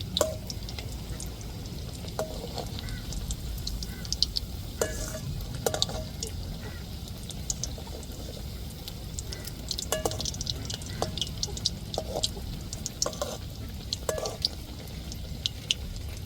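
Potato cutlets fry in hot oil as they are turned gently one by one, giving a steady low sizzle with light scraping and occasional soft clinks of a utensil; no talking.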